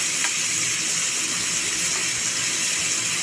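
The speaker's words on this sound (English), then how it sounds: "I got the chicken over here on this side frying good." Steady, dense sizzling hiss of chicken frying in hot grease, close and continuous throughout.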